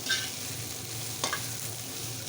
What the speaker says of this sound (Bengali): ভাজিটা ভালো করে নেড়ে ফিরে লাল লাল করে ভেজে নেবেন